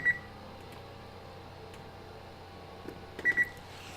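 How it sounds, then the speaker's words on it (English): An oven timer being set before baking gives one short beep at the start, then a quick pair of beeps a few seconds later, faint against a low hum, with no talk. "let's set the timer"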